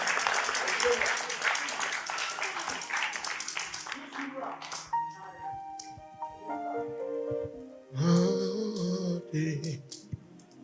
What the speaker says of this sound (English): clap your hand better for Jesus